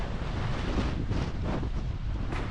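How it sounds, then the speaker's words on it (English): Strong wind roars steadily across the microphone outdoors in Crete, Greece in early July, a constant low buffeting rumble with gusts, no voices. "it's super windy"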